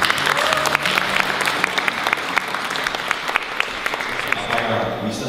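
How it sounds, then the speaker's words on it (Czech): Applause from an audience at a ninth-grade farewell ceremony at a primary school in Píšť greets the mayor, sustained and fairly close, with individual sharp claps standing out and a low hum of crowd noise underneath. "poprosím o potlesk"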